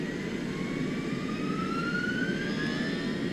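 Airliner jet engines spooling up for takeoff in Microsoft Flight Simulator 2024, a steady loud roar with a rising whine sweeping upward, no talk.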